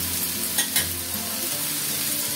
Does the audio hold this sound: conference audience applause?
no